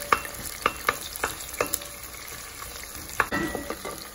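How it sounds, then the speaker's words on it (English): Chopped onions stirred and sizzling in a pan for a Roman calamari stew with peas and tomato, with a soft steady fry and several sharp spoon scrapes and clinks near the start and again toward the end. "the onions cook for a couple of minutes until they become"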